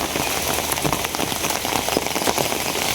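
A steady downpour of rain drums on nearby surfaces, loud and dense with constant patter and no voices.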